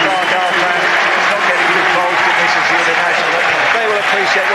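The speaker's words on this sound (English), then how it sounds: "Terrific applause from 3 ends of the ground" A football crowd at Exeter City's stadium for a match against Plymouth Argyle applauds in a broad, continuous wash of clapping, with a commentator talking over it.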